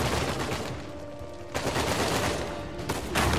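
Gunfire in the Uncharted 4 game pours in from enemies, a steady dense crackle of shots that swells louder around the middle and again near the end, with no talk over it.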